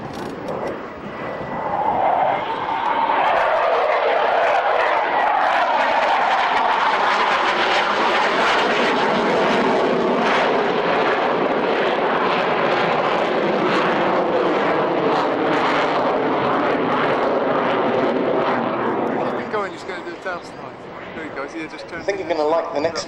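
A jet aircraft performing a low, slow manoeuvre at the RIAT Fairford Air Tattoo air show, a loud sustained engine roar swelling and holding steady before easing off, with a commentator's voice over it.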